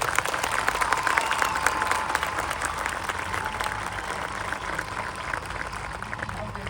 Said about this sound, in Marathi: एक मोठा टाळ्यांचा गडगडाट होऊन जाऊ दे